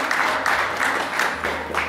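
Audience applause for an award winner at a Korean logistics industry awards ceremony, a steady wash of clapping from a crowd with a low hum underneath, moderately loud throughout.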